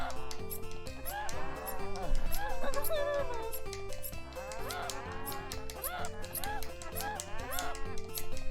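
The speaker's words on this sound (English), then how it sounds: "if I had a bunch of chickens singing like this too, I'd probably go insane" Chickens clucking and squawking in a video game, a busy overlapping chorus of warbling bird calls layered over steady game music, loud and continuous throughout.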